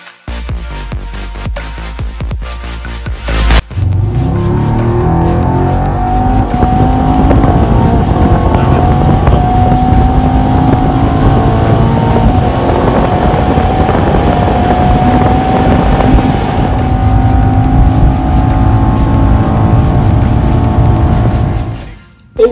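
A Mercedes-AMG E63 S engine in Sport Plus mode on a race track roars loudly and steadily, revving up after a brief rumble and holding a high, powerful drone as it drives.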